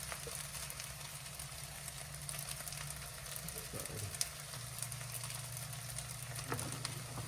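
Rice fries in olive oil in a pan for loaded fried rice, making a continuous close crackling sizzle over a low steady hum, with no voices.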